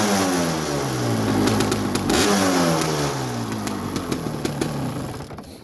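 A Suzuki LT250 Quadracer two-stroke quad, revived after sitting for years and running a rich 16-to-1 fuel mix, revs up and down close by with rising and falling whining engine pitch, loading up and sputtering as it settles.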